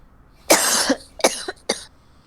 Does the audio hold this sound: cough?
yes